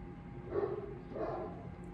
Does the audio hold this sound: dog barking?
yes